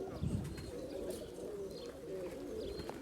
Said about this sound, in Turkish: Bugün Türkiye'nin en büyük güvercin çiftliğindeyiz.